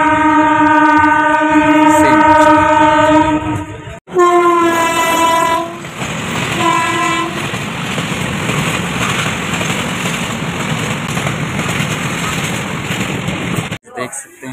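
A freight train rolls through a railway crossing, sounding its horn in long blasts before a close, continuous rumble and clatter of wagons passing loudly.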